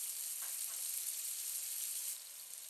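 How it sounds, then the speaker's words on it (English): Garlic sautés on low heat with a soft, steady sizzle and a couple of faint stirring touches near the start, fairly quiet throughout with no voices. "Saute the garlics with low heat for about 10 to 20 seconds"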